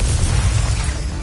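A Confringo fire-blast spell in the Hogwarts Legacy video game explodes as a loud, continuous booming roar, close and dense, with a deep rumbling low end and no voices.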